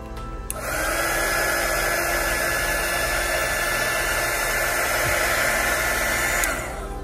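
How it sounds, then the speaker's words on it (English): A crafting heat gun for embossing blows hot air in one steady, loud, close whoosh. It starts about half a second in and runs evenly for roughly six seconds before cutting off near the end. "this is the heat gun that I'm using. It's a crafting heat gun for like embossing and stuff."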